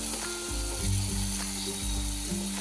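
Chopped tomatoes sizzle in a pan for a Kashmiri-style mutton dish, with a steady fry hiss broken by several rhythmic scraping strokes as a spoon stirs the mixture.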